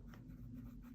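A fountain pen with a medium steel Schmidt nib scratches out downstrokes on paper, a faint, close, soft scratching over a low steady hum.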